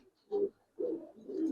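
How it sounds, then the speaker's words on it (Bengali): A blue high-flying pigeon at a fancy pigeon farm gives three low, throaty coos close by, each a short rounded burst separated by brief pauses. "নীলা কবুতর মনে হয়"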